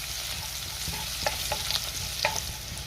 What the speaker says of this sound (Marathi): टेचलेला लसूण घालायचा आहे. आता हे 1 मिनिटभर आपण परतून घेऊया.